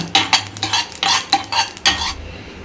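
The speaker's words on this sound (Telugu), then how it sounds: "ఇప్పుడు గసాల్ మిరియాలు 2 కలిపేస్తున్నా. లైట్గా వేయించుకోవాలి" A spoon stirs poppy seeds and black peppercorns being lightly fried in a pan for a mutton liver fry masala, with a series of loud rhythmic scraping, clattering strokes against the metal, close up and without talk.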